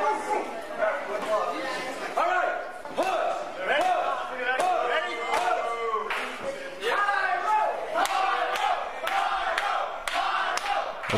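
Wrestling crowd cheering and shouting at a live independent match featuring Da Hoodz against Mike Graca and JT Dunn, a dense, loud continuous roar with repeated rhythmic chant-like bursts and no spoken commentary over it.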